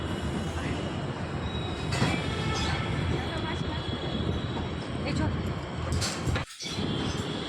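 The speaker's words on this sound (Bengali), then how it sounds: "এই দেখো ট্রেন এসে পড়েছে" A Pune metro train pulls into the station with a loud, continuous rumble of wheels on rails and a high squeal. It stays close and steady throughout, with a brief dip near the end.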